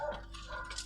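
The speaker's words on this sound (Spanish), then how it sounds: "Los perros están ladrando." Dogs barking outdoors at a distance, a few faint, rough barks mixed with background noise and ambient hum.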